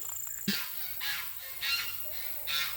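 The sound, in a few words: geese honking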